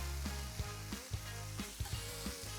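Onions caramelizing in a pan give a soft, continuous sizzle close by, broken by several distinct knocks and scrapes of a utensil stirring them, faint overall with no talk.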